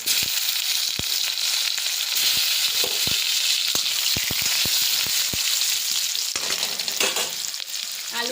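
Potatoes fry in hot mustard oil with black cumin and ripe green chillies in a wok, a dense steady sizzle with scattered crackles and spatters throughout, close and loud, no voices.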